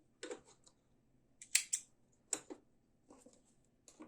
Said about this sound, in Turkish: Yine de bir zincir çekiyorum sonunda çünkü burada ipimi keseceğim.